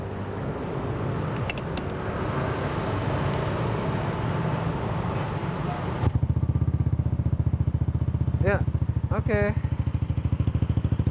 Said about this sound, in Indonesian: Sekarang kita coba hidupin dulu, kita denger kayak apa sih bunyinya